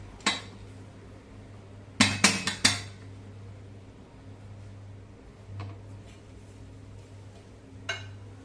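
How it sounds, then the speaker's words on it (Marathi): An eggless mango cake being turned out of its tin onto a plate: a few sharp metallic clinks and knocks, one early, a quick cluster of several in the middle and a couple of later taps, over a low steady hum. "आता केक आपण ताटामध्ये काढून घेऊया."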